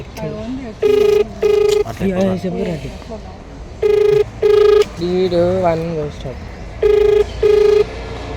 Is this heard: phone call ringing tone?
yes